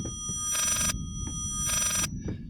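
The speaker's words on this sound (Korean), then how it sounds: "이거 지금 전화 벨소리인가봐" A telephone rings inside the horror game Layers of Fear, two loud, bright electronic ring bursts separated by a short gap, with faint footsteps and ambient sound underneath.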